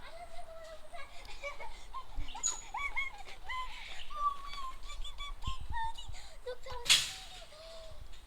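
Birds call at Hartley's Croc Adventures wildlife park, a run of clear chirps and whistled notes close by over soft background chatter. A sharp crack comes near the end.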